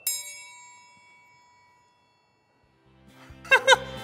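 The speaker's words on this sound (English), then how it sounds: "Should I play the triangle?" A triangle struck once with a small stick rings out bright and clear, then decays slowly into silence before a short burst of other tones and a brief vocal sound follow near the end.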